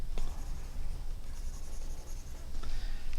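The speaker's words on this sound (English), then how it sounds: "so let's erase the head for right now." A pencil drawing on paper is erased close up, a soft continuous scratchy rubbing with faint, steady strokes.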